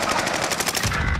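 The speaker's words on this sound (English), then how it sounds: "I'm taking fire." Sustained machine gun fire in Call of Duty: Modern Warfare, a loud continuous rapid burst of shots lasting about a second with no speech over it.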